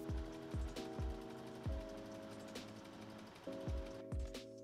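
A sewing machine top-stitches the lining of a swimsuit in several short runs, each motor burst starting with a rising whir and stopping after a second or so, fairly quiet and close.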